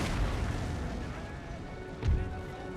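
Cannon fire in the video game Total War: Empire, a dull boom landing late in the stretch over a dense rumbling battle backdrop, moderately loud.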